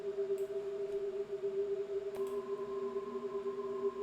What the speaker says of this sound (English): this is when the oscillators are not modulating each other.